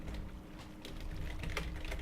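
Keys on a computer keyboard are tapped during a Minecraft session, a quiet run of irregular clicks that come in small clusters, heard alone.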